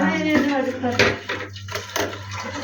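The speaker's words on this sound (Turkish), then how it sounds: "Tuğba buradaki bulaşıklarını yıkıyor Fulya'mızın." Dishes being washed in a small home kitchen, clinking plates and cutlery rattling close by under steady talk.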